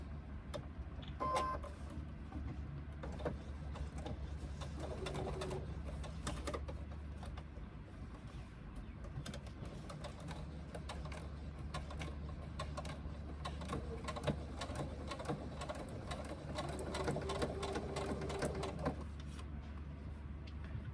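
A sewing machine stitches a quarter-inch seam on a fabric sling, a quiet mechanical run with rapid ticking pulses and faint whirring that carries on steadily, with brief pauses, throughout.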